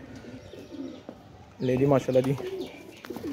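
Pigeons coo in soft, rolling calls nearby, with a louder burst of cooing midway, while someone speaks briefly over them.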